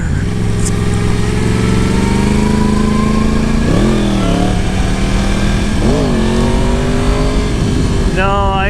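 Yamaha R1 sport bike engine holding a steady drone, then revving in two sharp bursts during a wheelie attempt and once more near the end, loud and close under wind noise.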